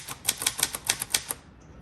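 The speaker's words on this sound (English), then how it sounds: "This is a stellar typewriter." A 1961 Royal Forward Travel typewriter clacks through a quick run of about nine crisp keystrokes, close and distinct, then falls quiet.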